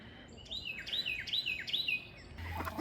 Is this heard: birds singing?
yes